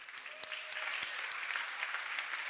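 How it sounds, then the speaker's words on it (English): Audience applause at a global goals forum quiz event, a steady wash of many clapping hands with a few sharper individual claps, moderately loud and continuous throughout. "Give yourself another applause."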